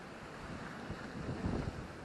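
Incoming sea tide washes over bladderwrack seaweed along a rocky shore during sea fishing, a steady broadband wash of water and surf with wind buffeting the microphone, close and continuous without a break.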